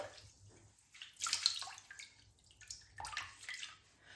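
A wig being shampooed in water, with sloshing and splashing that rise and fall in two bursts of rushing, squelching washing noise at close range, with no speech.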